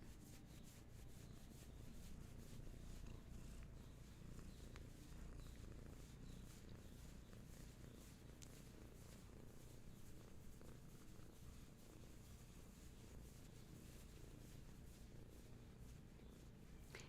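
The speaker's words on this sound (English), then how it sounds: "Lovely healing purrs from Hattie Cat." A cat purrs steadily and softly for the whole stretch, a close, continuous low rumble with no pauses and no talking over it.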